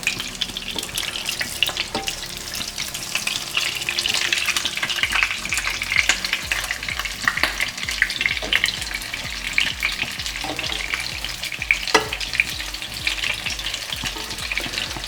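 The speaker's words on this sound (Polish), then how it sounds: "smażymy z drugiej strony." Buckwheat cutlets sizzle and crackle steadily in a hot pan, a continuous close frying hiss with scattered pops, no voices.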